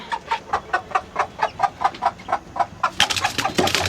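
Rapid, regular clucks come from a native desi hen brooding Chinese duck eggs, a close run of short pulses before a sudden burst of louder, harsher calls and rustling at the end.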